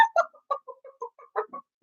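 Children imitate a chicken with a run of short, choppy clucks at an uneven pace, close and moderately loud.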